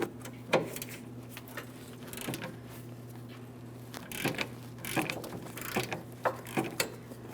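A long ratchet with an 18mm socket works a rusted control arm bolt on a 2005-2010 Chrysler 300, giving faint, scattered clicks and metallic creaks over a low steady hum, with no talking.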